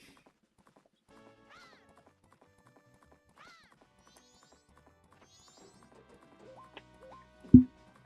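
Horse hooves clip-clop faintly and sparsely in Zelda Majora's Mask, set among quiet game chimes and tones, with a louder thump near the end.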